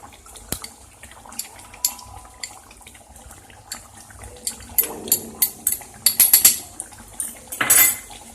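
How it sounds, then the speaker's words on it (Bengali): A utensil clinks and scrapes against a pan as spice mix is stirred into chicken dak bungalow, in scattered, sharp metallic knocks that grow busier toward the end. "দিয়ে ভালো করে মশলাটাকে মিশিয়ে নেব।"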